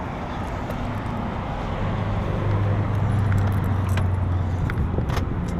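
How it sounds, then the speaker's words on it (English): Keys jingle and click faintly while unlocking a 2016 Subaru WRX CVT, small metallic taps scattered over a steady outdoor background rush. "Well, I gotta unlock it."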